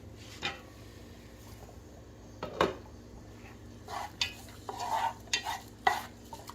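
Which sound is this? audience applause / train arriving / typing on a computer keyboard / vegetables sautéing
vegetables sautéing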